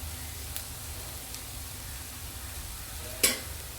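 Egg bhurji mixture with turmeric fries softly in a pan, a faint steady sizzle with a few light scrapes, including one sharper knock of a utensil near the end.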